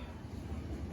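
A train slowing down rumbles along the track with a low, steady rolling clatter, fairly faint and close, no voices heard.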